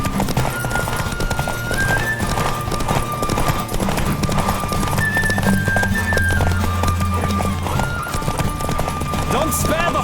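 Racing horse galloping in the video game The Witcher 3, continuous close clip-clop of hooves with whinnies, mixed with game music and voices talking.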